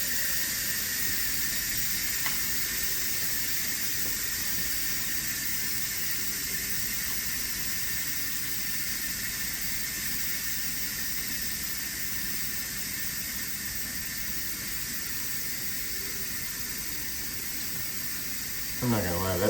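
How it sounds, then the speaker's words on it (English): Steam vents from a cooker in a long, steady, loud hiss that holds evenly for nearly twenty seconds and stays close, with a brief clatter near the end. "so we're gonna go ahead and release the steam."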